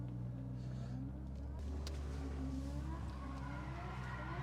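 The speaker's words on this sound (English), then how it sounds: "they're doing burnouts" A car does burnouts at a driving event, with a steady low engine drone and tire noise heard at a distance under people talking.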